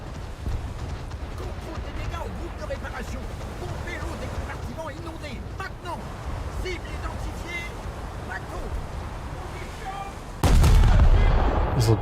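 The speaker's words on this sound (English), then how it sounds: "So some enemy secondary guns trying to shoot at me." Enemy secondary guns fire at a ship in World of Warships, with distant thuds scattered under steady talking, then a loud close blast near the end.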